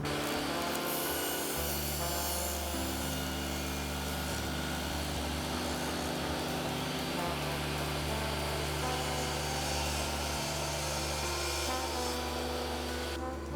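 A table saw rips the first edge off a board held away from the fence, a loud continuous motor whine and blade-through-wood roar sustained throughout, with no talking.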